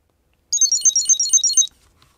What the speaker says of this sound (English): So we can see that it's ringing and the light indicator there.